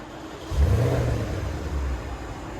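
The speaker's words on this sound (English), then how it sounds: "Porsche Cayenne S. This is what it sounds like before." A Porsche Cayenne S with a 4.8L V8 and stock exhaust gives a brief, subdued rev heard up close. It is a low, fairly quiet rumble that swells and then settles back to idle.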